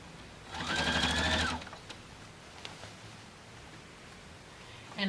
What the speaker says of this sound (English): And now I can finish sewing this on.